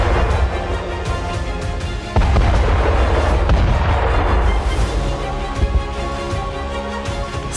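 An explosion at sea booms heavily, then becomes a dense, sustained roar of blast rumble that stays loud throughout, mixed with music-like tones.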